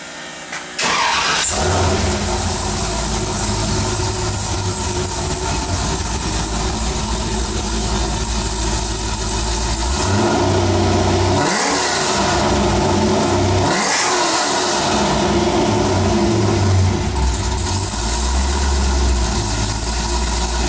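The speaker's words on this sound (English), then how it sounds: "This is a stock LS3 480 horse engine." A 1966 Corvette's stock 480-horsepower LS3 V8 cranks and catches, then settles into a loud steady rumble with a couple of sharp revs that swell and drop back.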